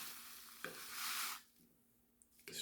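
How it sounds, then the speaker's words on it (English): Oatmeal from a packet stirred into a pot, a close scraping swish with a couple of spoon knocks against the side, fading to quiet near the end. "And I'm going to add this and stir it in."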